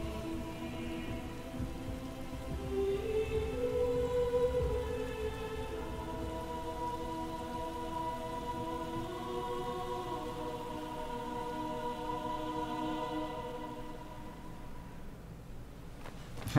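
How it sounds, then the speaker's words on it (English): Steady rain pours throughout a stormy scene in the video game Shadow of the Colossus, a dense hiss layered over low sustained music tones, with no talking. "The rain doesn't help either."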